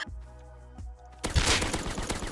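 Gunfire in the survival game Rust: after a quiet stretch of low hum and small clicks, a loud burst of rapid shots erupts and rattles on through the end.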